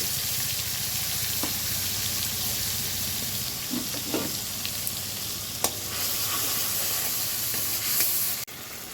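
Ginger, cumin, chili, coriander and tomato paste fry in hot oil, giving a steady, close sizzle with a few soft clinks of stirring and no voices.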